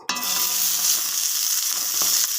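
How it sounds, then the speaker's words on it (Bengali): Cut potato pieces drop into hot white oil in a wok, setting off an abrupt loud sizzle that stays steady and close. "এবার আমি টুকরো করে রাখা আলু দেবো।"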